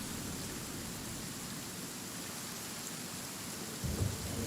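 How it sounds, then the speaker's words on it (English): Steady rain pours in Genshin Impact, a dense, even wash of droplets close by, with a brief low rumble of thunder swelling near the end and no talking. "It's still raining."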